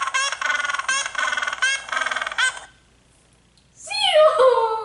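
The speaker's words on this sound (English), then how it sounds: "Penguin? Correct, Timmy." A penguin call played in an animal sound guessing game: a loud, raspy braying series of honks in quick pulses, a pause, then another descending squawking cry.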